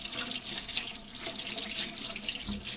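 Kitchen tap running steadily into a sink while grapes are washed, a continuous close splashing stream with no pauses and no talking.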